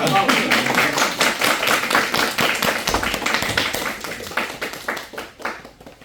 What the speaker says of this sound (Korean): 우리 주학교에 은찬이 어머님이 오늘 처음 오셨는데 우리 일어서라면 부담스러우니까 그냥 박수로 안녕하도록 하겠습니다